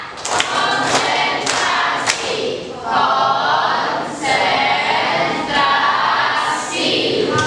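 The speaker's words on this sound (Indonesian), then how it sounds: "Tepuk empat." Seventh-grade pupils in a classroom clap in unison in a counted pattern. A few crisp, loud group claps come early, followed by a stretch of overlapping young voices and scattered smaller claps.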